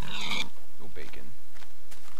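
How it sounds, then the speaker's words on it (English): A Minecraft pig gives short grunting oinks near the start, followed by a few fainter sounds under general game audio on an island. "There's a pig over there, and right there, and over there."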